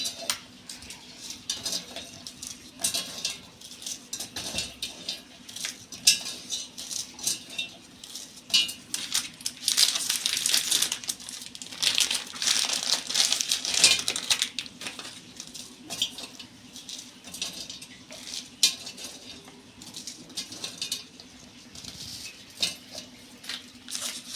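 Bourbon biscuits snapped into pieces by hand for a simple milk cake, heard as a run of close, crisp crunches and light clinks against a dish, busier in the middle with no talking.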